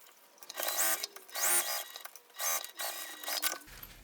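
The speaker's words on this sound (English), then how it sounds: "So I'm going to sew down this side, across, and up here." A sewing machine stitches a fabric bag closed in several bursts of rapid mechanical whirring, separated by short pauses, close and fairly loud.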